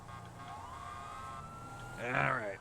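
An ambulance siren in a Grand Theft Auto game convoy wails with a rising, sustained tone behind a voice, then swells louder near the end.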